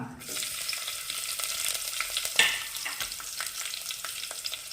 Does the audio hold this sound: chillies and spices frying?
yes